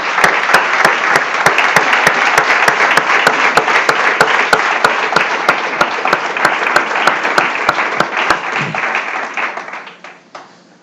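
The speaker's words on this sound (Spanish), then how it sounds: "Démosle un aplauso al Señor." A church congregation claps during a Sunday sermon, sustained dense applause with sharp individual claps standing out, holding steady for several seconds before fading out near the end.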